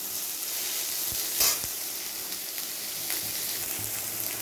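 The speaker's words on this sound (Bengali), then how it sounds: "কড়াইতে তেল দিয়ে আমি পটলটাকে ভেজে নিচ্ছি।" Pieces of pointed gourd fry in oil in a wok with a continuous, close, hissing sizzle that briefly flares louder near the middle.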